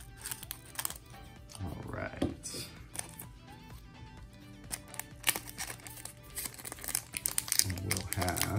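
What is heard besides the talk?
scissors cutting open trading card box packaging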